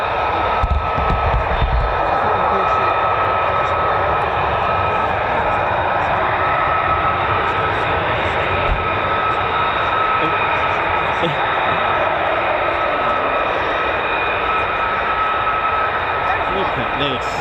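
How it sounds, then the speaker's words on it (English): A USAF F-15 fighter jet's engine rumbles from somewhere not far off near RAF Lakenheath, a continuous broad roar with a steady whine, sustained throughout as someone talks over it. "Got an F-15 somewhere. Not too far away, somewhere."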